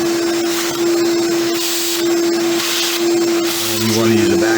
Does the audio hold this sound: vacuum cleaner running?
yes